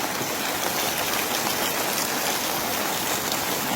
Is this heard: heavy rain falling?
yes